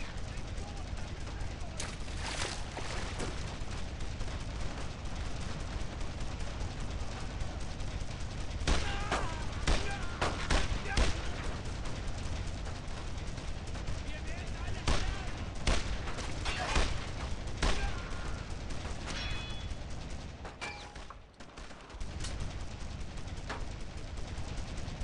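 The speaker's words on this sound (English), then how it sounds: "Shooting at me from over there. Let's give him all we got." Gunfire in the World War II shooter Brothers in Arms: Road to Hill 30, scattered rifle and machine-gun shots cracking over a steady battle din, some near and sharp, with voices talking throughout.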